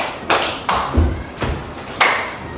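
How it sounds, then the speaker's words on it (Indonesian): Students in a classroom clap, heard as a handful of sharp, separate slaps spread unevenly over a couple of seconds, fairly loud and close. "Tepuk tangan dulu untuk"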